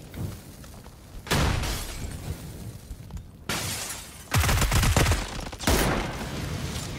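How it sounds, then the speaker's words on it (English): Several Molotov cocktails are thrown in PUBG and shatter one after another. Each lands as a loud, sharp crash of breaking glass followed by a roaring whoosh of fire, with brief gaps between the impacts. "I got 5 mollies. Throwing some in there."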